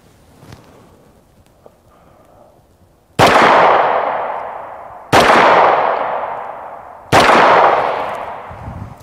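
Three loud, close 9mm handgun shots are fired at a bulletproof vest outdoors, each a sharp crack with a long echoing decay, spaced about two seconds apart after a quiet lead-in.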